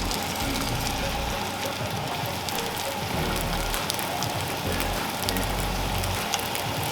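Birria roll tacos fry seam side down in hot oil, giving a dense, steady sizzling crackle like rain, loud and continuous with no gaps.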